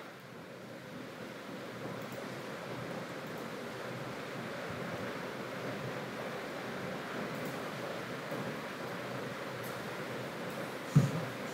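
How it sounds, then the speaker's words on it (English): Steady broadband rushing water from a river rapids ride in a theme park video game, a continuous wash of flowing water with one brief sharp knock near the end. "The river rapids was glitched out, now it's fine."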